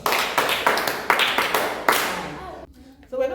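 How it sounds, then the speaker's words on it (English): Claps from children or a small group at a Bible story session, a few uneven rounds of fairly loud hand claps that break off and then pick up again. "Give yourself a big clap."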